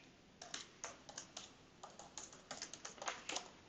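A passphrase is typed on a computer keyboard as a string of quick, close, crisp key clicks in uneven clusters over faint room noise.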